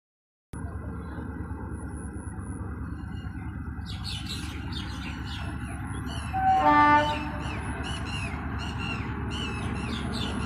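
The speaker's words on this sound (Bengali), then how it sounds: "এগুলো আমাদের বাড়ির পাশ দিয়ে যাচ্ছে ট্রেন" A train rolls past right beside a house, a steady loud rumble of wheels on rail, with a brief louder horn-like swell midway and rhythmic clatter continuing to the end.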